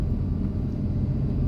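Inside a new Toyota on a snowy road between pine trees and tall snowbanks, a steady low cabin rumble of engine and tyres carries on evenly and continuously, with no voices.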